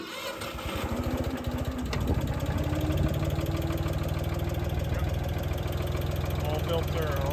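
A Ford 2600 tractor engine idles steadily after a choke start, its close, loud, even chugging rhythm running on throughout with a brief sharp knock near the start.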